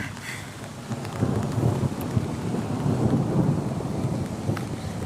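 Deep, rolling thunder from a severe thunderstorm rumbles steadily over falling rain, loud and close throughout with a few sharper cracks, and no voices.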